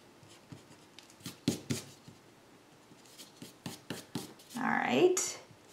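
Math work is erased from a board in a string of quiet, quick rubbing and tapping strokes, ending in a longer, louder scrubbing pass.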